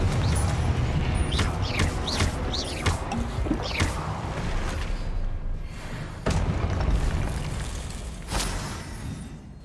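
Repeated fiery blasts from the Confringo spell in Hogwarts Legacy, with bursts and crackling impacts over a dense, loud game soundscape and no talking.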